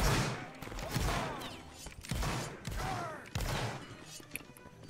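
Musket volleys fire in a Roblox Waterloo battle, several sharp crackling bursts of massed shots arriving about a second apart over a busy battlefield din, with faint shouting mixed in.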